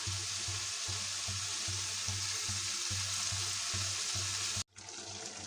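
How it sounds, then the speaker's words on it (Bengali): Beef cooking in a saucepan gives off a continuous broad frying hiss over a low pulsing hum, steady and moderately close, cutting out abruptly near the end before resuming more quietly; no talking. "আমার এই যে গরুর মাংস রান্না হচ্ছে"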